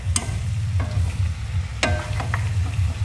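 Vegetarian noodles with cabbage being stir-fried in a hot pan, a close continuous sizzle broken by sharp scraping stirs of a utensil against the pan, with no talking.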